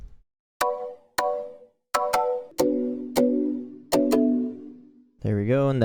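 Short synth plucks with a noise layer on the attack play a simple melody. Seven sharp, percussive notes each decay quickly, followed by a swooping, warbling tone at the end, clean and close.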